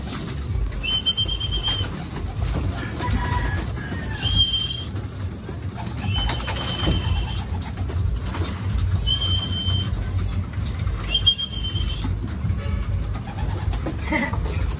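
Pet pigeons cooing and birds chirping nearby while hungry, with occasional wing flaps, over a steady noisy background.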